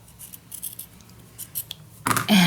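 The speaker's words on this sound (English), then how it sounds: "fussy cutting out" Small scissors snipping paper while fussy cutting journal pieces, a few light crisp snips and rustles, then a louder burst of paper handling near the mic.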